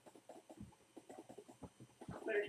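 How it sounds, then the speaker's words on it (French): Chickens in a modded Minecraft game give a run of quiet, rhythmic clucks, repeated short bursts at a low level, with a brief brighter game sound near the end. "J'ai des poules."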